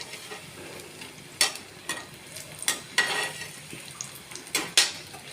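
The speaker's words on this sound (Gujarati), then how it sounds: "આ રીતના બધા મીડિયમ ગેસ ઉપર તળી દેવાના" Kachori-style snacks deep-frying in hot oil over a medium flame, a steady low sizzle broken by several sharp scrapes and clinks of a spoon stirring against the pan.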